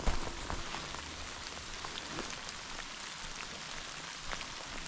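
Soft, steady patter of rain falling on surfaces, faint and continuous with scattered individual drops, no voices.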